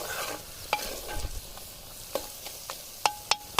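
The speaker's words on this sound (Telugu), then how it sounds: "చూడండి, ఇదంతా బాగా తిప్పుకోవాలి, కలిపెట్టుకోవాలి" Chicken curry sizzles in a pan (kunda chicken) while a spoon stirs and scrapes through it, with several sharp metallic clinks near the end. Frying hiss stays steady underneath.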